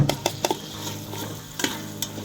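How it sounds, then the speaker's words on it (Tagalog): Ginger sautés in hot cooking oil in a pan for a Bulacan chicken pakam, giving a close sizzle broken by a few sharp clicks and scrapes from stirring; no voices. "Painit na ng mantika sa lutuan at unang gisahin ang luya."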